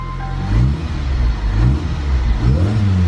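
A freshly fitted LHT supercharger blower whines as the engine revs up and settles in repeated pulls, three swelling rises over a steady low engine rumble, loud and close with no talking.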